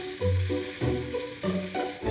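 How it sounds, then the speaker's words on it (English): Browned lamb pieces with their juices sizzle and spit in a hot pan while being stirred for a stew, a steady crackling fry with soft bumps from the spoon, close and fairly loud. "sizzling away here."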